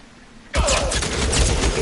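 Gunfire erupts in an L.A. Noire shootout during the final mission, a sudden dense volley of loud rapid shots after a quiet moment, continuing without pause.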